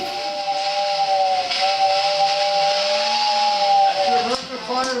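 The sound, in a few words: steam fire whistle at a parade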